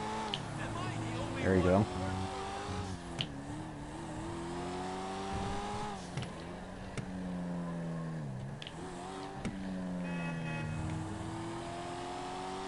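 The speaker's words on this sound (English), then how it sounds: "Do a solid downshift here." A car engine in a driving video game running a mod revs and drops through several downshifts, with pitch swooping up and down and brief sharp blips, under occasional talk.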